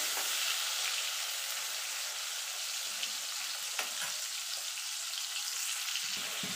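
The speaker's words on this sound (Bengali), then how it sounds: "এবার চিংড়ি মাছটাকে ভেজে নেব।" Shrimp frying in hot oil: a continuous, even sizzle with light stirring, fairly soft and steady throughout, with no voices.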